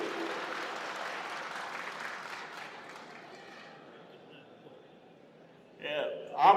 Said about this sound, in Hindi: तो ताली बनते ही